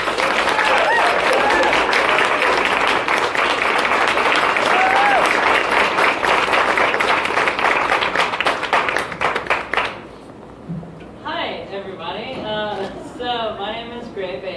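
An audience at a feminist awards event claps to welcome a grant winner, loud, dense applause that carries on for about ten seconds before thinning out, and then a voice speaks.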